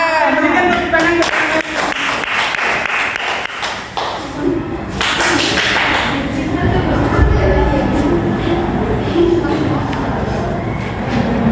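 Children in a classroom applauding presenters during a maths lesson on symmetry, a dense burst of clapping mixed with voices and scattered thumps that grows and then thins out.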